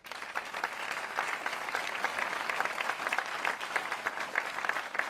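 An audience applauds during a presidential speech, a continuous even roll of many hands clapping, fairly distant and soft, with no talking over it.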